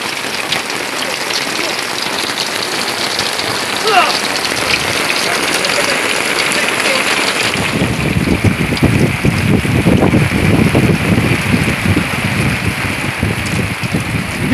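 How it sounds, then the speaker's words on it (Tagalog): Rain falls on a fishing boat out at sea. It starts as a steady hiss with wind noise, then grows heavier and denser halfway through as a loud patter of drops. "Ayun mga kaidol, parating na yung ulan."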